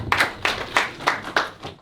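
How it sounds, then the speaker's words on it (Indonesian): Audience applause at an Indonesian motoring association (IMI Bali) gathering, heard as about six loud, evenly spaced clap bursts, close and sharp, with no talking over them. "Kita berikan tepuk tangan yang meriah."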